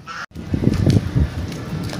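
Loud, nasal duck quacks, several calls in quick succession, close by, in the rain.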